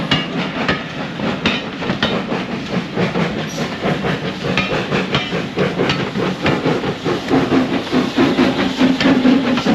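A steam train near Big Pit in South Wales chuffs and hisses close by, with rhythmic puffing beats, metallic clanks and bursts of steam running loud and continuous.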